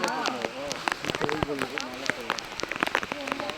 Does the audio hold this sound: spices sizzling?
no